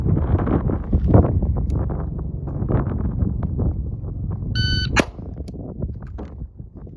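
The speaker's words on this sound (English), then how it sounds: "I'm going to wait for the end of the beep, and I'm going to fire the shot" A short electronic shot-timer beep sounds, then a single sharp gunshot cracks right after it in a reaction-time drill, over steady outdoor background noise.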